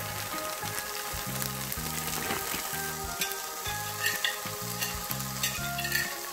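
Zucchini and potato pancakes with cheese fry in a pan over low heat, giving a steady close sizzle and crackle throughout, with occasional pan and utensil knocks and no talking.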